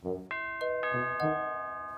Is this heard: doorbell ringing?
yes